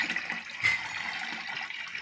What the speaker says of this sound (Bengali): এই যে জল দেওয়া হচ্ছে।